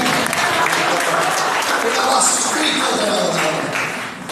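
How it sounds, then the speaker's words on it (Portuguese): At a special Father's Day church service, the congregation bursts into loud, dense applause that holds strongly and fades slightly at the end, with voices and shouts mixed into the clapping. "Aplauda o Senhor essa noite."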